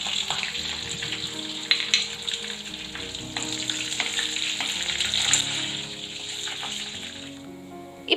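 Cumin, curry leaves and broken dried red chillies crackle and sizzle steadily in hot oil for a tomato kadayal tempering, a continuous close frying hiss with scattered pops and a few small clinks.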